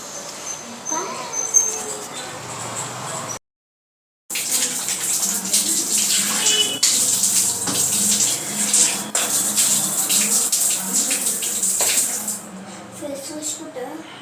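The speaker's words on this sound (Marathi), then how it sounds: "पटकन मी हातपाय धुवून घेते" Tap water runs steadily into a basin while a woman washes her hands and feet, a continuous splashing hiss broken by a short gap, with her voice talking over it now and then.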